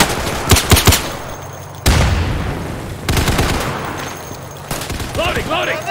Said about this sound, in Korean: 어, 수류탄 소리가 계속.